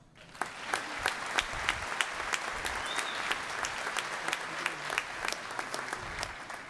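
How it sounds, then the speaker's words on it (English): Sustained audience applause at a graduation ceremony, a dense, steady roar of many clapping hands with sharper individual claps standing out, moderately loud and continuous throughout. "Great job, a round of applause"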